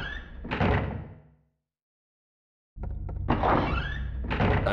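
A locked door being tried in Silent Hill 1: heavy rattling thunks as the handle is worked, then silence, then another burst of loud, close door knocks and rattles, with no voices.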